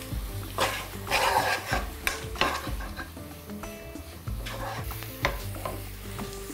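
Mushrooms seasoned with salt fry in a pan, a soft sizzle beneath repeated close clinks and scrapes of a utensil stirring against the metal.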